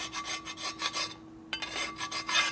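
Metal file rasping across a 1978 Harley-Davidson shovelhead cylinder head during porting, heavy rhythmic strokes repeating close up with a brief pause midway.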